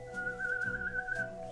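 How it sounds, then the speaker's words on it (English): A person whistling one steady, sustained note close by, fairly soft, with faint low background noise underneath. "I'm whistling, trying to make a noise of light."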